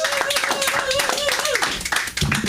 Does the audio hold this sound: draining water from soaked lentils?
no